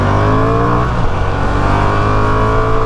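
A 2024 Honda Transalp 750 motorcycle, with a 755cc parallel twin and a 270-degree crankshaft, accelerates in sport mode. The engine gives a loud, continuous droning note that climbs in pitch as it pulls.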